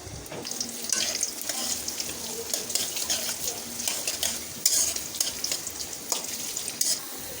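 Onion and garam masala fry in hot oil in a wok, giving a continuous loud sizzle with steady stirring and scraping of the utensil against the metal throughout.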